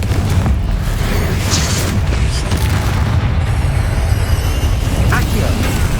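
Confringo spell explosions in Hogwarts Legacy, heavy booming blasts and rumbling bursts that stay loud and continuous, with game effects layered over them.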